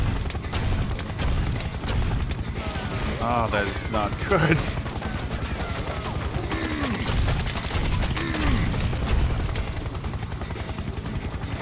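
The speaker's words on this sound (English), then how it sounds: "Fucking mutant helicopters." Mutant helicopter enemies in Serious Sam 3: BFE whirring and chirping amid rapid gunfire and clattering effects, loud and continuous, with someone speaking briefly over the action.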